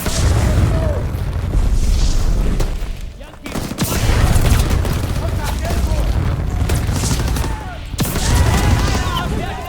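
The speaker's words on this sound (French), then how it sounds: "J'ai vu qu'il y avait des tirs." Bursts of gunfire and booming explosions in the Call of Duty WWII D-Day battle, loud and dense, with repeated shots and blasts rolling through most of the stretch and a brief lull near the middle, under a player's excited talk.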